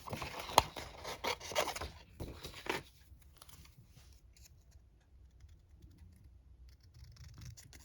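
A few quick snips and rustling scrapes of scissors through paper up close, then the room falls mostly quiet with faint handling.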